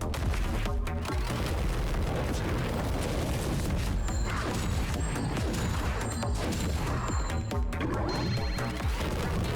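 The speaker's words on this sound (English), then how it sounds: "I just get exploded on" Explosions in the Helltaker Examtaker video game, a dense run of booming crashes and blasts filling the whole stretch, loud and continuous with game sounds layered over them.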